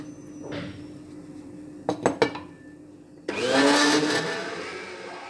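Kitchen blender grinding ingredients for a caramel cream with sweetened condensed milk, a few clinks of dishes first, then the motor roaring up loudly and running steadily to the end, close by with no talk.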